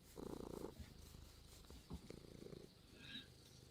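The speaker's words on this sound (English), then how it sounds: "Even my cat here." A house cat purrs close to the microphone in low, rumbling bursts that rise and fall with its breathing, fairly quiet overall, with a faint chirp near the end.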